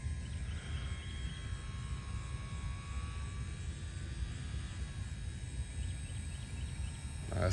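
A Dynam P-47 radio-controlled model warbird on its maiden flight, coming in slowly with flaps down, makes a faint, steady electric motor drone at a distance.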